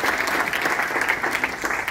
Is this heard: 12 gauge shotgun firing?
no